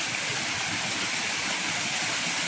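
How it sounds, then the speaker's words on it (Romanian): Bigar waterfall in the Bozovici area, a continuous, even rush of falling water heard close and alone, a steady broadband hiss with no breaks. "cascada Bigă."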